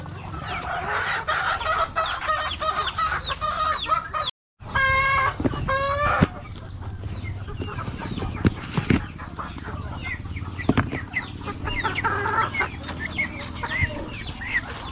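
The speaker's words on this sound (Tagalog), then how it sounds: "So ganyan lang yung papakain ko ng mga manok." Chickens cluck steadily in a coop on a small poultry farm, a busy flock chattering close by with an occasional rooster crow breaking through.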